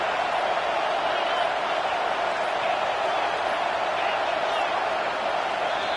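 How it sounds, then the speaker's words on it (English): Crowd roar inside an NCAA 25 college football video game, a steady, dense broadband wash of stadium noise holding at an even, loud level from start to finish with no clear breaks. "The roar of the crowd trying to fuel this defense to keep them pinned in their own end."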